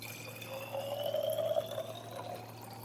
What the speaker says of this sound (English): let's fill this bottle with water